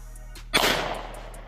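A single sharp gunshot from a Sig P365 XMACRO pistol cracks once and then rings off quickly, heard alone against quiet background hum.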